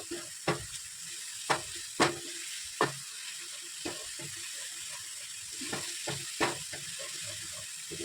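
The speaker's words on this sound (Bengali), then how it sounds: "এখন এটা কষিয়ে নেব" A spiced paste with salt and a pinch of asafoetida fries in oil for Mughlai paratha, a low background sizzle punctuated by sharp, irregular spoon strikes and scrapes against the pan.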